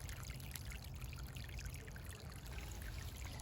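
Water pours steadily from close by onto garden soil, a continuous gushing trickle splashing down with no talking.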